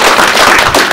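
Audience clapping at a televised lecture on acupuncture and moxibustion, a dense, loud burst of many hands applauding together for under a second.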